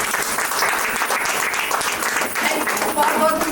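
Loud, steady applause from an audience at a franchise inauguration event in Ayodhya, honouring a woman named Anjali; dense clapping fills the whole stretch, with faint voices underneath.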